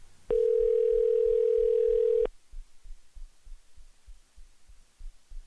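A single long steady electronic tone lasting about two seconds, followed by a soft rhythmic low thumping pulse that continues on its own.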